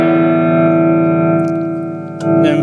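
A Leslie 910 rotary tremolo reverb speaker plays a sustained organ-like chord with its reverb on the medium setting, loud and close, rich with tones and a faint shimmer, ending in a short noisy burst.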